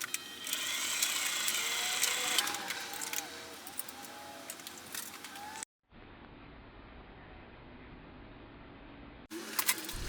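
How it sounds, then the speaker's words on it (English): A sewing machine stitches a double thickness of nylon webbing with Velcro for pedal straps, a close, busy mechanical whirr with rapid ticking for several seconds, then a quieter hum after an abrupt cut. "So now we're gonna sew the double thickness of these together."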